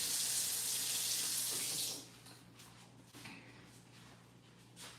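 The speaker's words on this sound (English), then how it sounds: "you might hear some water in the background, but that'll end soon" Water from a household tap rushes steadily and loudly for about two seconds, then stops, leaving faint room noise with a few soft knocks.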